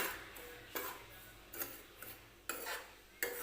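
Semolina (rava) for upma roasts dry in a pan as a spoon stirs it, making a faint continuous grainy rustle broken by several sharp scraping strokes against the pan at uneven intervals, with no voices.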